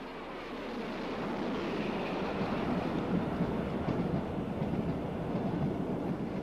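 A Great Western King class steam locomotive hauling the Bristolian express passes by as a steady, rushing roar of wheels and train noise, heard alone without voices.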